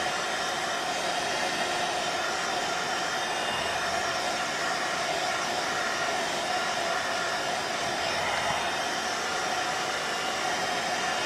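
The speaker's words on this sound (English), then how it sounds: "I'm going to give it a blast with the heat gun" A loud, steady blast of hot air from an electric heat gun with a motor whine runs continuously and unbroken, close by and without any talking, drying crackle glaze paint.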